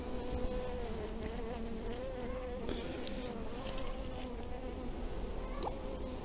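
Honeybees buzz steadily around an open beehive, forming a dense continuous drone with individual bees flying close past now and then, and no talking.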